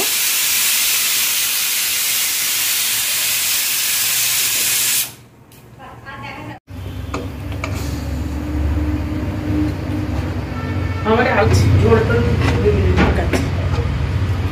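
A pressure cooker vents with a loud, continuous steam hiss while mutton curry cooks, then stops abruptly and gives way to quieter kitchen clatter and voices talking.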